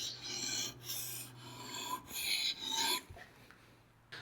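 A drawknife blade is rubbed back and forth on a coarse grit sharpening stone, giving steady rhythmic rasping strokes, close and fairly loud, with no talk.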